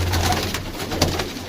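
Domestic pigeons cooing in a loft during bad weather, a steady low murmur of several birds close by with a noisy, airy background and no talk.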